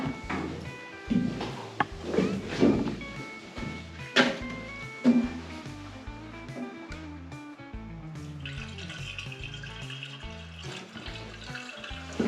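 A mix of coolant and water is poured, splashing and trickling unevenly with a few sharp clunks of a container, then settling into a steadier flow toward the end.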